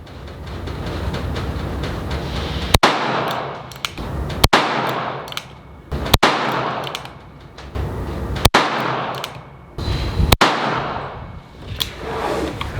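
Five sharp, loud cracks at roughly even intervals from a Colt King Cobra .22 LR revolver firing copper-plated round-nose Mini Mag rounds at a target, each shot followed by a short ringing decay.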